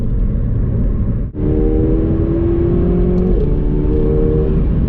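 A 2019 McLaren 720s with over 700 horsepower pulls under light throttle, a steady close engine drone and rising whir holding throughout, with a brief dip near the start as the gear changes, then continuing smoothly.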